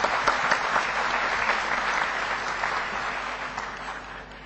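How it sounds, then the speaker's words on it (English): Audience at a currency panel discussion applauds steadily, a dense close burst of clapping that slowly tapers over a few seconds with no talk. "Big round of applause for Jamal."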